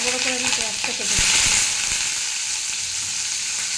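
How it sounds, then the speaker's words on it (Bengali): Chopped onions sizzle and crackle in hot oil in a kadai wok, a close, steady frying hiss with a few soft stirring knocks near the start. "এবার আমি পেঁয়াজটা ভাজতে দিয়ে দেবো"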